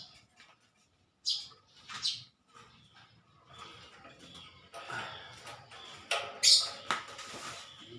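Small birds chirp near a homemade birdcage built from a flower rack, scattered bright tweets and calls that come in short bursts at close range over faint rustling.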